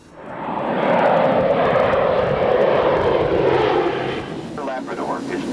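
A passenger plane on a flight to Nain, Labrador, fills the cabin with a loud, steady aircraft engine roar that swells in within the first second, holds, then eases slightly near the end.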